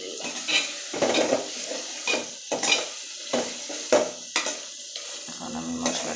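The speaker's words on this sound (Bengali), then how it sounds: "এখানে আমি আদা রসুন পেস্টটা দিয়ে দিলাম" Ginger garlic paste goes into a pan while cooking a beef curry, with a spoon scraping and clanking against the metal in repeated strokes over a soft sizzle, close and fairly loud, with no voices.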